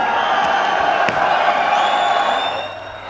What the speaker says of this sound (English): as vast crowds gather on both sides to cheer the troops in this eccentric ceremony to mark the closing of the border